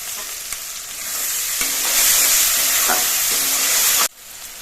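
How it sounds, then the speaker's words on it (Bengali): Spices and mutton masala for a mutton curry fry in oil with a loud, dense sizzle that swells midway, with faint stirring, then cuts off abruptly near the end. "মশলাগুলো আমি বেশ কিছুক্ষণ কষিয়ে নিয়েছি মশলা থেকে তেল ছেড়ে দিয়েছে"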